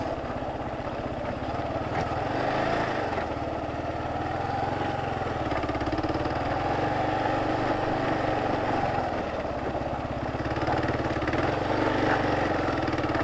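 Four-wheeler ATV engine running steadily while riding a marked trail, a continuous close mid-pitched drone with slight rises in throttle and no speech.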